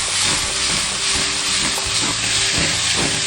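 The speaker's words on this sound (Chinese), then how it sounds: "然后开大火翻炒" Shrimp stir-fried with pineapple and red and green peppers over high heat, a loud, steady hissing sizzle with occasional clanks and scrapes of the spatula in the pan, no voices.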